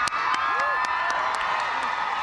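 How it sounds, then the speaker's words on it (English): A crowd cheers and applauds the Ireland women's rugby team after their Six Nations win over Italy, with whoops and children's shouts rising over a steady roar of clapping. "as the Irish women take the applause"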